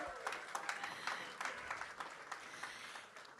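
Applause from a crowd at an Oklahoma election night event, honoring a candidate's family: a fairly faint, steady wash of clapping lasting a few seconds.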